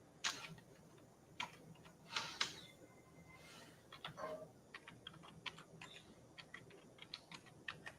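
Fingers tap on a computer keyboard in irregular, quiet bursts of clicks, close but faint, with no talking.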